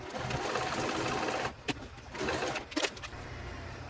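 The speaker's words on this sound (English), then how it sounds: "I'm going to go ahead and sew that in place" A sewing machine stitches a pocket onto a concealed-carry purse in a close, steady whir. It stops briefly, then restarts with short runs and a few clicks.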